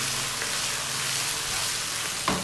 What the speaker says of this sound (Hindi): ये हमने 3 चम्मच डाल दिए लहसुन अदरक के पेस्ट के। और इसको भी हम थोड़ा सा और ब्राउन करेंगे।